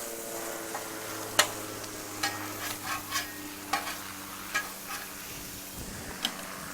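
Half a pound of sausage frying on a camp griddle for breakfast burritos, scraped and broken up with a spatula: a soft continuous sizzle under a steady run of sharp metallic scrapes and taps, close and fairly quiet.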